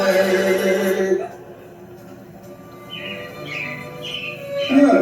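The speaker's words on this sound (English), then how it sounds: "It looks like the Robins are getting ready to celebrate Valentine's Day today." Chirping robins play as an animatronic show effect at the Carousel of Progress at Walt Disney World, bright high chirps in short bursts after a sung theme fades, with the theater's background hum underneath.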